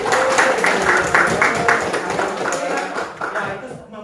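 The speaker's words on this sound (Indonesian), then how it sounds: "Oh ya, bagus sekali, tepuk tangan ya." Classroom students clapping their hands together in a lesson, a burst of brisk rhythmic claps from a group nearby that thins out toward the end, with some voices mixed in.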